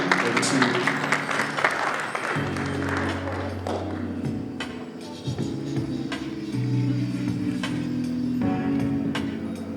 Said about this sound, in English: Ladies and gentlemen, a round of applause as she makes her way to the stage.